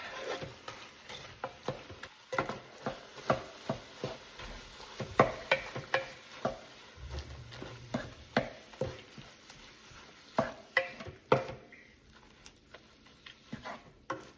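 Ground turkey fries in a pot while being stirred, a faint sizzle beneath a steady run of soft scraping and tapping strokes from a utensil against the pot.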